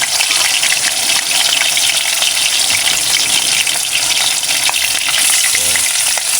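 Lobster fries in hot oil in a pan during cooking in rural Marinduque, producing a loud, steady hissing sizzle with crackling bubbles throughout.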